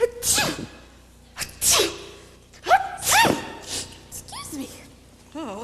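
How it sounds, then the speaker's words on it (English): Three loud sneezes in quick succession, each a sharp burst, with a person speaking briefly afterward. "I always sneeze in threes."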